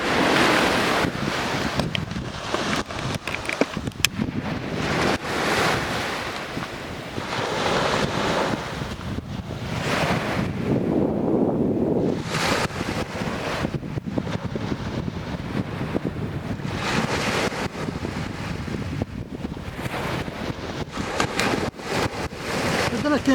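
Steady surf rolling onto a beach during sea fishing, a continuous broadband wash of breaking waves with gusting wind buffeting the microphone, surging louder and softer throughout.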